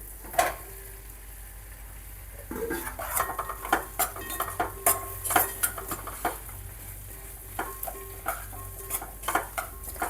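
Okra pieces frying in a pan for a village-style okra tamarind curry, with repeated metallic clinks and scrapes of stirring over a steady low sizzle, close and moderately loud, no talking.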